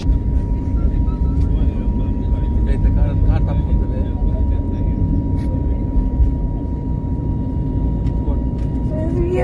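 An IndiGo airliner drones with a loud, steady low engine and cabin rumble that never lets up, while voices chatter over it throughout.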